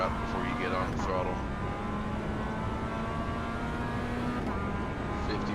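A Mazda MX-5's engine in iRacing at Winton Motor Raceway drones steadily at close range while someone talks over it throughout.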